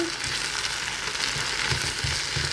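Chicken liver frying in a pan with ginger and garlic stirred in: a steady, fairly soft sizzle with a few low scraping stirs near the end.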